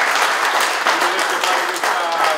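Sustained applause from an audience at an award ceremony for a regional derby competition in Bagnoregio, a dense steady wash of many hands clapping with some crowd voices mixed in.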